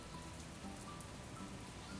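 Rain in a VR game, a steady, soft hiss of falling drops that is faint and continuous, with no other sound standing out.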